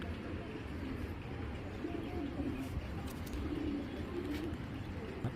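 A young racing pigeon coos softly and low, the repeated murmuring calls sitting in a quiet loft ambience with no talk over them.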